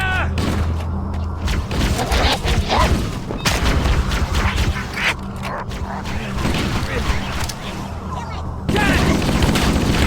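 Rapid bursts of gunfire and heavy booms from a Halo video game battle fill the scene, dense and loud throughout, with voices shouting over the shooting.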